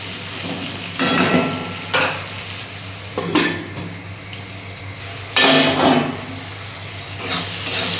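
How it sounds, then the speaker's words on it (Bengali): Onions fry in oil in a pan for a Bengali singi fish curry, a continuous close sizzle broken by several louder bursts as a spoon stirs and scrapes, with no voices. "পেঁয়াজটা ভাজা ভাজা হয়ে গেছে"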